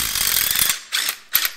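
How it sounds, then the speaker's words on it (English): An impact wrench loosening a bolt on a Chevrolet Nova rattles loudly in a sustained burst, then fires two short bursts after brief pauses. "that this impact will knock it loose."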